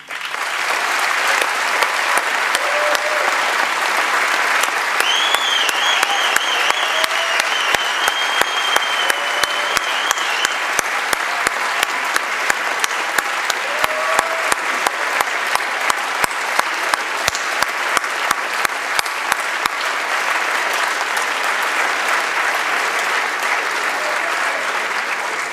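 Warm, sustained applause at a business school MBA and EMBA graduation ceremony, a dense steady wash of many hands lasting over twenty seconds, with faint tonal music lines drifting through the crowd clapping.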